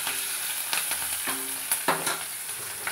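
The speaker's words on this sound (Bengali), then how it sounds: "এবার আমি আলুটাকে কষিয়ে নেব।" Potatoes with slit green chillies and radhuni spice fry in a hot pan, giving a loud, constant sizzle broken by several scraping stirs, close up and with no voices.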